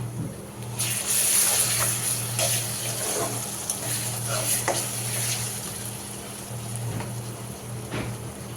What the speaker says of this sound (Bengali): এখন আদা রসুনের বাটা দিলাম